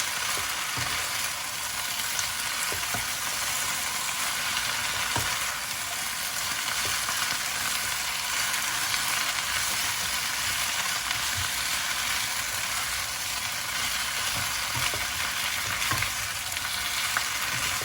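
Chinese kale is stir-fried in oyster sauce in a hot wok over high heat, giving a loud, continuous sizzle and crackle. Scattered scrapes and stirring knocks cut through the frying.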